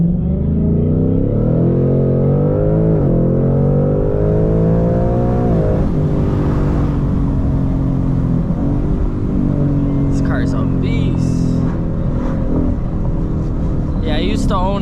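A Ford Mustang Mach 1 pulls hard uphill on a back road, its loud engine note climbing and dropping back through several gear changes, then holding a strong drone.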